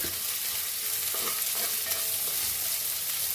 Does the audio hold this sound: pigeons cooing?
no